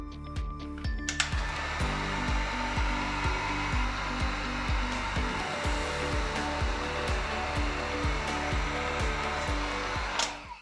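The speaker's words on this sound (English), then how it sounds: "So when I use the heat gun, I like to heat up the part where I'm going to start peeling" A heat gun blows over a mountain bike decal with a loud, steady rushing hiss and a low pulsing motor hum, running continuously up close and cutting off at the end.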